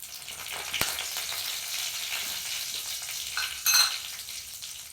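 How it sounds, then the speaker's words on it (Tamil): Dried red chillies sizzle in a spoonful of lightly heated oil for tempering, giving a steady soft crackle with a sharp pop early on and a brighter spatter burst near the end, with no voices. "எண்ணெய் கொஞ்சம் லைட்டாக சூடு உடனே முதல்ல காஞ்ச மிளகா போட்டுக்கலாம்."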